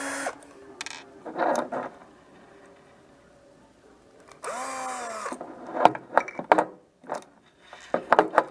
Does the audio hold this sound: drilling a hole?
yes